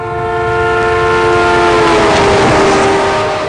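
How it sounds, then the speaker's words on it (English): A loud, sustained train horn blares, rising slightly in pitch and volume as the train draws near, over a rumbling roll. "As a train approaches, the whistle's pitch rises."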